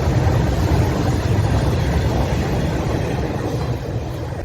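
A train rolls past a closed railway crossing on the Raipur–Champa line in Chhattisgarh, giving a loud, steady, continuous rumble and clatter close by with no break for the whole stretch.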